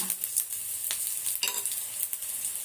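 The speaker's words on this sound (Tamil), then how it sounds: "மிளகு, ஜீரகம் எல்லாமே வறுக்கணுங்க." Black pepper and cumin dry-roast in a pan, giving faint crackles and a steady dry rustle punctuated by several sharp stirring scrapes and clicks.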